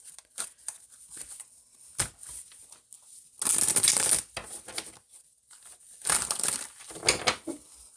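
A deck of tarot cards is shuffled by hand in short riffling bursts, close and crisp, with two louder, longer riffles among lighter card handling and taps.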